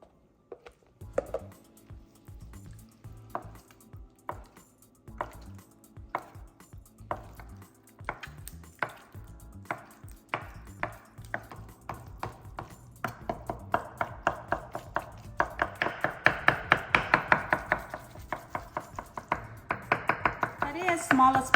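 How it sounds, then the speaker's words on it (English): A knife chops chilled, set bone broth on a chopping board with a series of crisp, evenly spaced taps that speed up into rapid, denser chopping toward the end, close and clear. "put it on a chopping board, and then chop it into small pieces"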